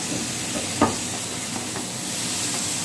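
Chopped tomatoes sauté with onions in a pan, giving a steady soft sizzle and hiss with a brief stir or clink near the start.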